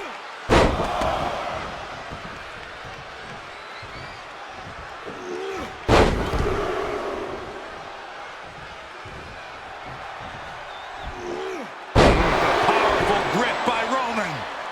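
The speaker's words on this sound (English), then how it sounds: "That was a powerbomb with one message in mind: absolute destruction" Heavy body slams from a WWE 2K25 wrestling match between John Cena and Roman Reigns, three loud booming impacts spaced about six seconds apart, each with a sharp crash and ringing decay over a low crowd roar.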